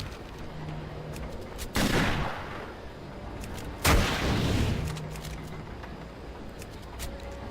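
Two loud booming gunshots, a couple of seconds apart, from the Darkmoon Faire shooting gallery in World of Warcraft, over a steady background of game ambience.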